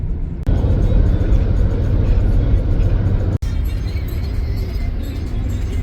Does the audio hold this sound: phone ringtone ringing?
no